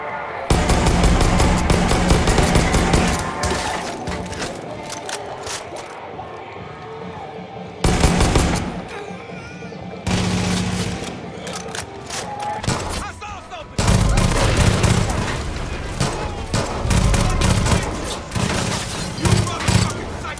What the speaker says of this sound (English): The guns in particular do sound good